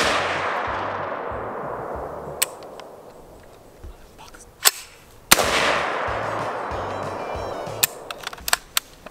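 A few sharp gunshots echo outdoors on rural acreage while a gun is being function tested, loud reports with long decaying tails, mixed with scattered smaller clicks and metallic handling sounds.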